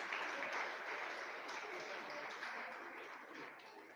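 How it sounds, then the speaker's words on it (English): Parents applaud students at a St Xavier's ICSE school ceremony in Vasai, a steady wash of clapping from a large crowd that holds evenly for the whole stretch before easing off slightly at the end. "Parents kindly applaud and motivate our students."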